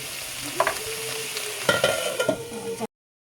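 Spices and vegetables frying in a pan as they are stirred: a steady sizzle with scraping spoon strokes at a few moments, close and fairly loud, ending abruptly in silence.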